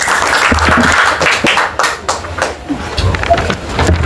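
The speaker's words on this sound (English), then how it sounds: "Clap for him." Students in a classroom break into a burst of clapping and applause that rises and falls over a few seconds, with voices mixed in.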